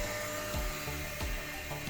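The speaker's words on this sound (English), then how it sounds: "turning on the dust extractor" A workshop dust extractor runs on with a vacuum cleaner hose attached, a steady loud whining drone with a few low pulsing dips, close and continuous.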